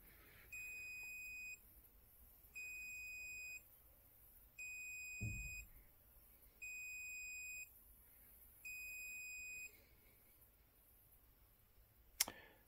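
An XY-BJ timer module's buzzer sounds in five evenly spaced, steady high beeps, each about a second long with short gaps, alongside a low thump midway and a sharp click at the end.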